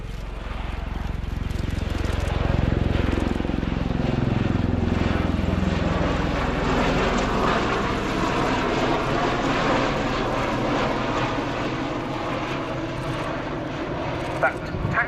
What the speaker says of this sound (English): So a rolling takeoff now from the Osprey.